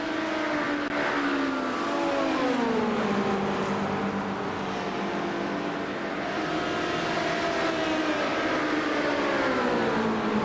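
Race cars at the 24 Hours of Daytona, including a GT-class Porsche, roar continuously with sweeping, rising and falling engine pitches as several machines pass and battle for position, loud and sustained with no talk.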